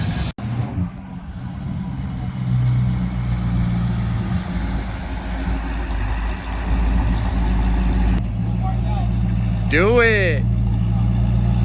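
A 1963 Ford Fairlane's engine runs steadily at idle, a continuous low rumble with a brief short voice over it near the start.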